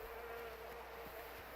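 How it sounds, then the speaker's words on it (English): Bees buzz in the video game S.T.A.L.K.E.R. 2, a steady, faint insect drone that stays even throughout and carries no speech. "there's bees."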